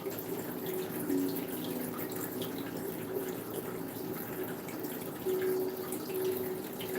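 An indoor fountain trickles steadily in a room, a constant watery wash at moderate level with a faint tonal hum beneath it, unbroken for several seconds and with no voices.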